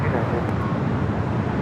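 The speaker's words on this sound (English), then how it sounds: "Followed by that United 757-300 coming from Honolulu" A United 757-300 airliner arriving at LAX, a loud, broad rushing jet roar close by, steady and continuous over a short span.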